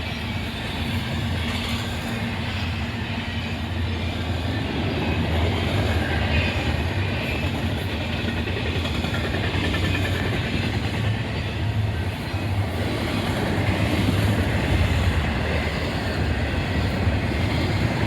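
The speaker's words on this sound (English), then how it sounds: "eastbound here to Oak Harbor. Another intermodal train." An intermodal freight train passes eastbound at Oak Harbor, Ohio, a continuous low rumble of rolling cars with faint rhythmic clatter, steady and moderately close throughout.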